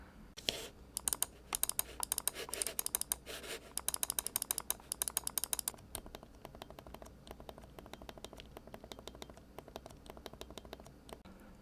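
Rapid, crisp clicking from an ASUS ROG Strix Carry mouse fitted with Kailh silent red dot switches, a dense flurry for about six seconds, then sparser, softer clicks.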